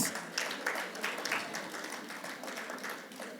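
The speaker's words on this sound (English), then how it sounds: "Please give her a round of applause." An audience at an International Women's Day event gives a round of applause for someone speaker, the deputy lieutenant: sustained, fairly soft clapping that tapers slightly toward the end, with no talk over it.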